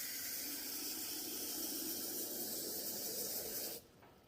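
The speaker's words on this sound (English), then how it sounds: "We'll add a little water." Water pours into a Lot-O rock tumbler barrel with a steady, bright hissing splash that holds evenly for several seconds, then cuts off abruptly.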